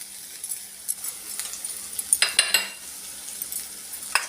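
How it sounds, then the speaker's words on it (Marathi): Green chilli and spices with turmeric and coriander powder sautéed in a pan for okra bhaji, a soft sizzle under scattered spoon scrapes and a short cluster of clinks near the middle. "बस याला परतून घेते छान."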